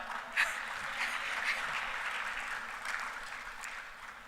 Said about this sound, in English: that deserves a big hand clap